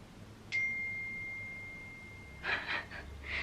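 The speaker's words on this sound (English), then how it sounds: "Sorry, that was my phone going off" A mobile phone notification rings out as one clear electronic ding that holds a long, fading tone, followed by faint breathy sounds and movement nearby in an otherwise quiet room.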